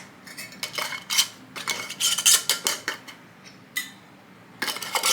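Metal canning jar lids handled during chicken canning, a series of bright clinks and rattles in short bursts with quiet gaps between, close by and without talk.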